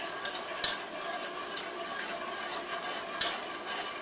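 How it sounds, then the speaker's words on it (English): A whisk scraping steadily through a zesty lemon mixture in a pot over medium-high heat, a continuous brushy stirring texture with occasional sharper clicks of metal against the pot, close and fairly quiet with no talking. "I'm going to turn on the heat and to medium high, and I'm going to whisk"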